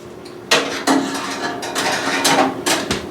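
Jerky racks slide into a food dehydrator, making loud close clattering knocks and scraping of trays against the unit, several distinct impacts in quick succession.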